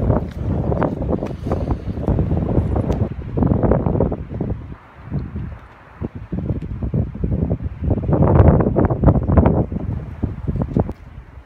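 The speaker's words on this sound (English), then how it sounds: "Oh, it's getting very windy." Strong outdoor wind buffeting the microphone in loud, uneven gusts that surge and ease, rumbling and roaring close up with no talk.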